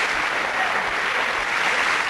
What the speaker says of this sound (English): Oh, give him a round of applause